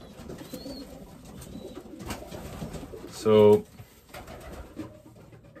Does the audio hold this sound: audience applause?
no